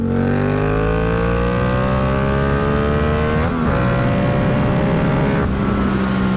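Yamaha MT-07 motorcycle accelerating hard, its engine note loud and close, climbing steadily in pitch through the gears with brief dips at each shift.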